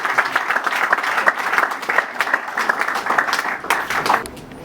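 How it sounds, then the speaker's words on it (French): Audience applause at a UDPS party ceremony installing a new bureau, greeting the national vice-coordinator as he steps forward: dense, sustained clapping from a sizable crowd, steady throughout and easing off at the end. "On applaudit au moment où il est en train d'avancer"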